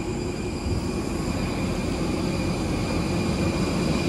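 Steady jet-engine roar from United airplanes on an airport ramp, a broad constant rumble and whine close by, with no talking.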